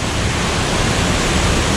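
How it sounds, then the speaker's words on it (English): Rushing waterfall in the Philippines, a loud, steady, unbroken roar of falling water filling the sound close by, with no voices. "this waterfall, it looks pretty jumpable"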